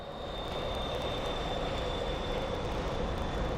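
Southwest airliners arriving at Phoenix Sky Harbor airport at dusk, a steady distant roar of jet engines holding level throughout with a faint high whine, heard from afar with no talk.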